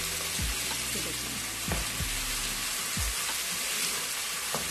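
Onions browning lightly in a pan for chicken shorba give a steady broadband sizzle, broken by a few low stirring thumps from a spoon, close and moderately loud with no talking.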